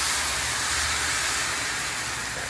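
White wine hits a hot pan as pie filling cooks, giving a loud, steady sizzling hiss that holds without a break.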